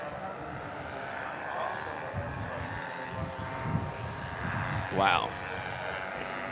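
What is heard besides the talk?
airplane flying low doing aerobatics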